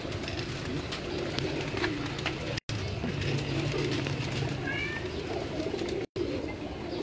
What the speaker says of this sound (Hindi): ये भी हमारे कमगर कबूतर।